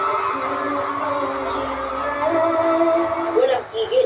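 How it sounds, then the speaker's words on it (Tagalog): A packed concert crowd screams and cheers nonstop for a Korean actor as he sings a Queen of Tears soundtrack song, a dense wall of shrieks with sharper whoops rising near the end. "Walang tigil ang intense na hiyawan"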